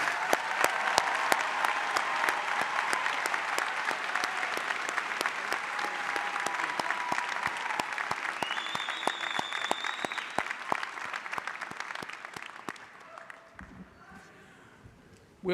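A large graduation audience applauds doctoral graduates at a university hooding ceremony, long sustained clapping with scattered sharp claps and faint whistles, gradually dying down, followed by brief voices at the end.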